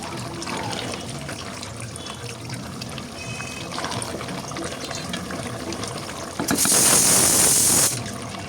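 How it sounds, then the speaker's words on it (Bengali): Broth is poured into a potato and meat curry made with chui jhal and garam masala, a brief loud splashing stream after quieter kitchen clatter and sizzling, with no voices. "এই তো এখানে আমি ঝোল দিয়ে দিয়েছি, দিয়ে কিছুক্ষণ রান্না করে নিচ্ছি"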